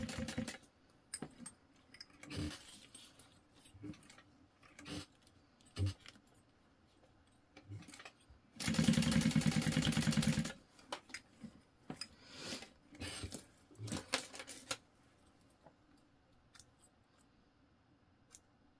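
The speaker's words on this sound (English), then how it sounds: "in between those 2 rows I'm gonna sew at an angle to the next one." A sewing machine stitches a tote bag, running in one steady buzzing burst of about two seconds near the middle. Scattered clicks and fabric-handling taps come before and after it.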